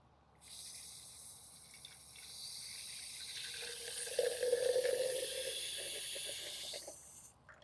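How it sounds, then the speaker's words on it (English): Water pours steadily from a container onto the roots of young moringa trees, a soft continuous hiss that swells into a brighter splashing trickle midway before tapering off near the end. "Let's give them a little water."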